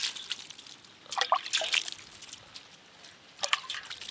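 Water lightly poured over freshly planted plants, heard as faint, close trickles and drips in scattered little splashes, with quiet gaps between them.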